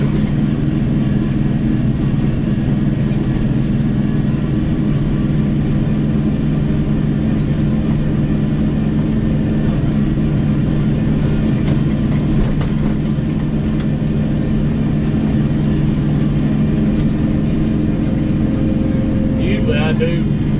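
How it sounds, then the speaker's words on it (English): Kioti NS4710 hydrostatic tractor mowing with an 8ft bush hog at a July 4 celebration: a steady, loud low engine drone with mower rumble running throughout, a brief higher whine near the end. "When you're in a hydrostatic tractor like this, it's enough to back up and go for it again."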